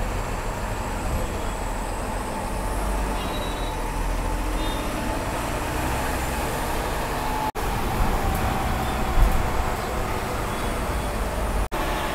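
A steady, moderate rumble of an MSRTC bus heading toward Malshej Ghat from Kalyan, with continuous engine and road noise, a couple of brief dropouts and a small bump near the end, no talking.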